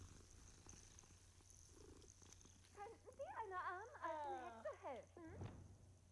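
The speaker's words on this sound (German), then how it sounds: "Eine Katze." A cat in the Hogwarts Legacy video game purrs steadily, then breaks into a run of loud, close meows with rising and falling pitch, ending in one sharp cry.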